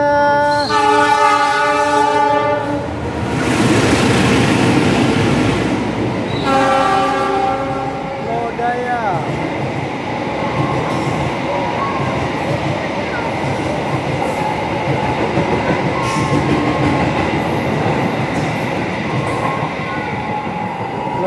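KA Serayu passenger train departing Cibatu station in Garut: loud horn blasts, then a steady roar of rolling wagons and wheel clatter on the rails, close by, with faint voices underneath.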